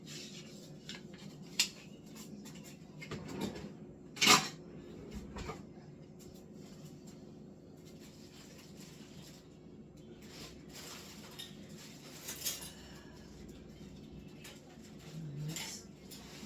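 Kitchen gadgets and metal spoons being rummaged through in a container, faint scattered clinks, clatters and rattles with one louder metallic clatter, in a quiet room without talk.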